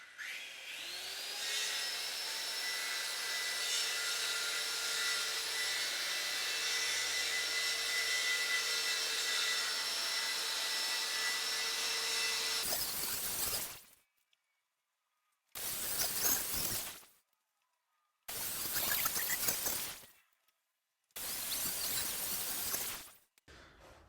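A power tool, likely a router, cutting slots into wooden frame pieces for a light board. There is a long, loud, steady high whine at first, then three shorter separate bursts of cutting with silence between them, and no talk.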